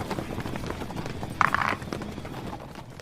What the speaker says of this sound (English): Ellie, you begin a sprint toward the horses as they barrel toward you.